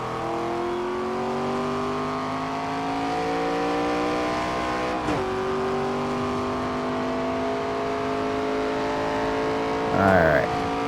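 Race car engine in the NASCAR 25 video game, a steady high droning whine with layered harmonics that holds for a long stretch, dips briefly once and swells near the end, with no voices over it.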